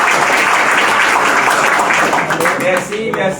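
Loud, dense applause from a crowd at a Mother's Day celebration, sustained clapping that thins slightly toward the end.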